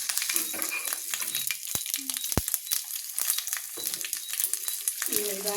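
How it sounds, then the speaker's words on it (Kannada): Curry leaves drop into hot tempering oil for an okra chutney and crackle and sizzle close by, with sharp pops and crisp rustling over a steady frying hiss and a voice talking now and then. "ಕರಿಬೇವು ಈ ಒಗ್ಗರಣೆಗೆ ಸ್ವಲ್ಪ ಹಿಂಗೆ ಹಾಕಿಬಿಡೋದು"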